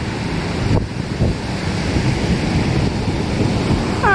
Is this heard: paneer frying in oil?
no